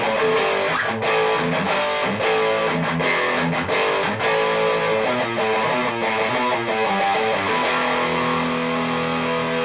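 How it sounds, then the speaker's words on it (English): Heavily distorted electric guitar played through an Orange Micro Terror amp into a 2x12 cab, with the distortion cranked; a loud, sustained run of riffs and chords with sharp picked attacks, heard alone throughout. "I'm running my guitar into the orange micro thing to the 2x12 cab."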